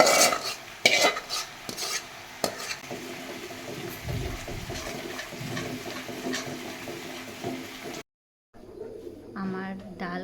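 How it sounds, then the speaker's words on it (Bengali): Boiled dal tipped into a pan and stirred at home while cooking for Rakhi, with scraping and clattering of a utensil against the pan, a soft simmering hiss underneath, then a brief pause before someone speaks over the end. "ডাল সিদ্ধ করে যেটা রেখেছিলাম ওটা দিয়ে দেবো"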